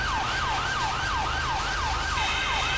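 A fire truck siren from a GTA 5 firefighter mod wails in fast, regular rising-and-falling sweeps, loud and continuous over a low engine rumble on a highway.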